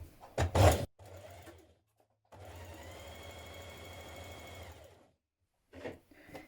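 A sewing machine stitches a sleeve underarm seam on a nightie, running steadily for about two and a half seconds after a short earlier burst, with brief handling noises at the start and end.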